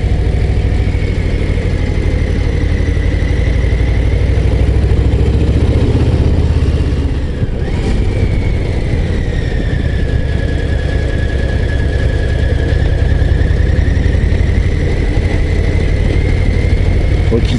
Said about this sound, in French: T'as vu avec cet Harley, ce gros moteur 117 cubic inch qui fait 1923 cm3 bourré de couple